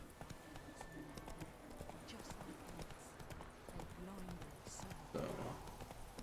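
Steady clip-clop of horse hooves at a brisk gallop in The Witcher 3, running continuously under ambient outdoor sounds with occasional voice fragments.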